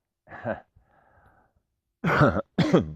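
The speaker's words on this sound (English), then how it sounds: "Gotta clear my throat." A person clears their throat several times, with harsh, raspy bursts separated by short pauses and a faint breathy sound between them.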